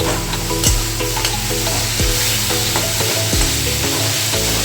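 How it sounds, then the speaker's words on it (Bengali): A spatula stirs jaggery into cabbage frying in a pan, bringing steady loud sizzling with repeated scraping strokes against the pan, close up and without talk. "দেখো গুড়টা এবার ভালো করে মিশিয়ে দিচ্ছি।"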